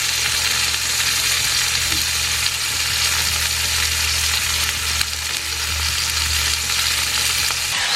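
Steady, loud sizzling and crackling of food frying in a pan, with a low hum underneath throughout.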